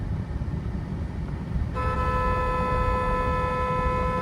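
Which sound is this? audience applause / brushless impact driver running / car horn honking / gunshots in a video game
car horn honking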